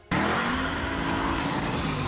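Loud, continuous car engine roar with tire noise during a car chase in an action film, sustained and close throughout with no pauses.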